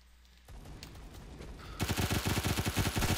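An MP5K submachine gun in Phantom Forces opens up in rapid automatic fire, a loud, evenly spaced stream of close shots starting abruptly after quieter handling noises and running to the end.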